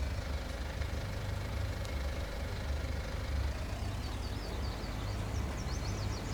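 A powerful tractor engine runs steadily in a farm field, a continuous low rumble at moderate level with a faint higher whine, no voices present.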